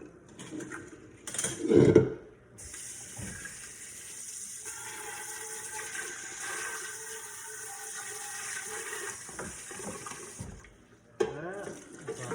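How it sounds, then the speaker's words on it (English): Broth pours steadily over chicken in a long continuous stream for several seconds, with a brief splash and clatter at the start and a short bump near the end. "Pour that over the chicken."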